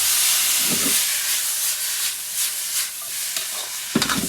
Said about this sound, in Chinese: 锅中加点油，先炒一个，油热下入生姜素，下入火腿丝，加点盐，加点味精，稍微来点水